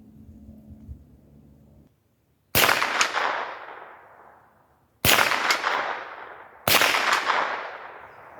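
Three loud, sharp gunshots at an outdoor shooting range, each a sudden crack with a long fading echo, the second and third closer together; a low hum runs beneath before the first shot.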